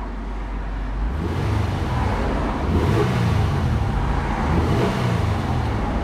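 A 2000 Nissan Maxima GLE's V6 engine running and revving, a steady droning rumble with mild rises in pitch, heard from close by with no talking.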